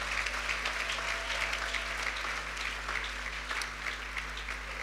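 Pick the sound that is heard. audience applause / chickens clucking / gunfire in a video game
audience applause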